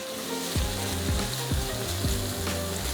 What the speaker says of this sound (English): So we'll saute the aromatics for just a couple minutes